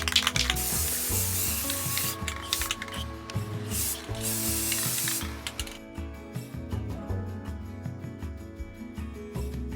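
Spray paint hisses in loud, close bursts as a heart is coated metallic gold, followed by a run of rhythmic ratcheting clicks; no talking.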